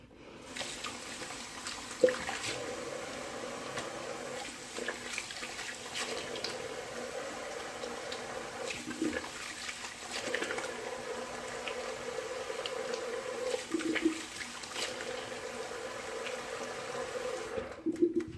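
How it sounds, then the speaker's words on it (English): Water runs steadily from a tap with soft splashing and occasional small knocks and clinks, fairly quiet and continuous throughout. "I'm gonna go ahead and do a quick cold water rinse."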